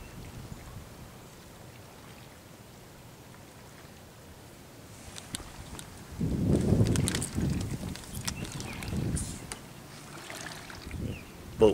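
Near a seawall at Clearwater Beach, a boat passes on the water and its wake arrives as waves washing and splashing against rubble, rising midway and rolling in repeatedly after a quieter, breezy start.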